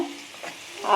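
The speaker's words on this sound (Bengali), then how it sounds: "আর এ পেঁয়াজ কলি ভাজা" Brief burst of spring onions sizzling as they fry, with a scrape of stirring, close and fairly loud, swelling toward the end.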